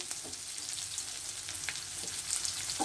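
Chopped onion and green chilies sizzle and crackle steadily in hot oil in a pan, with occasional scraping stir strokes and no voices, the frying close and continuous throughout.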